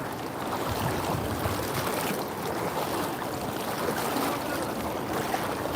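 River water rushes steadily around a boat crossing a shallow river with a strong current at night, a continuous close wash and churn with no talking.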